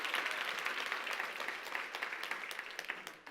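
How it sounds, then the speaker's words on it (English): Audience at a keynote presentation applauds, a crowd of hands clapping in a full, even burst that gradually thins out toward the end, heard without anyone speaking. "Can we give Bex a round of applause back there?"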